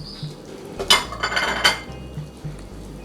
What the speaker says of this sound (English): I'm going to go ahead and add in my veggies, which is 1 medium carrot and half of a large Irish potato